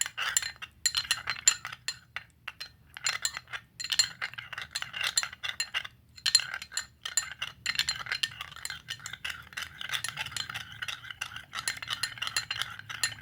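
A spoon clinks and scrapes against a bowl while stirring a coconut oil cream mixture, quick irregular metallic taps in bursts with short pauses, close and fairly quiet.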